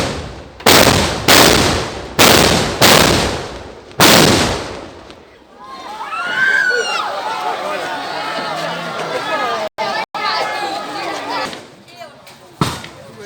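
Sniper performers at a traditional Aceh show fire five sharp, loud gunshots in an irregular series. A noisy crowd with voices and chatter follows, and a few brief bangs break through.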